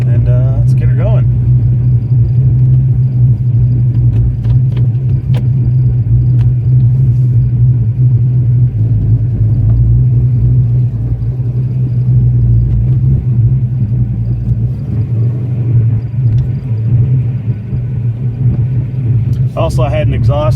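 A 1987 Ford Fox-body car engine drones in a steady, loud low rumble from inside the cabin while driving, with speech over it and brief clicks near the start and end.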